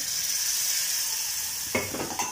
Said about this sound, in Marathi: दूध गरम करून घेतलंय मी, अगदी थोडं थोडं घालायचं दूध आपल्याला